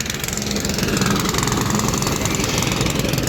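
A motor-driven sugarcane juice machine runs at a roadside stall, giving a steady, loud, knocking engine drone that carries on without a break.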